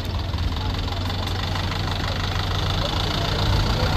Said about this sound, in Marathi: गाडी पुढे चालली